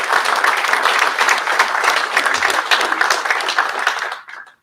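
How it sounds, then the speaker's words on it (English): Loud, dense applause from an audience at a military awards ceremony, sustained clapping from many people that carries on evenly before dropping away abruptly at the end. "So round of applause."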